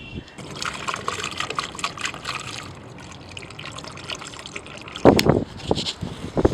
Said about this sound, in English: we have 2 gallons of distilled water, about a buck a piece, and we'll pour those in.